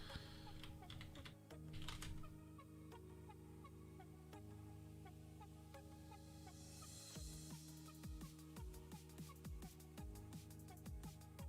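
Computer keyboard keys tapped to enter a Linux terminal command, a steady run of close, crisp clicks over faint background music and a few heavier strokes near the end.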